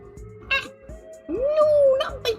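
A cat meows several times up close, with short calls followed by a longer, drawn-out meow that rises and falls, alone in a quiet room.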